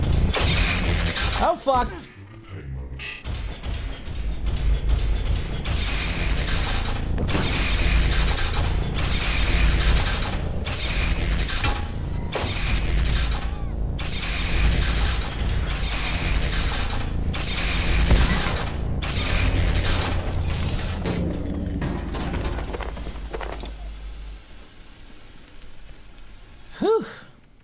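Rocket launcher fire and explosions in a video game, dense and continuous with repeated booming blasts and mechanical clatter, loud throughout, with a brief exclaimed voice near the start.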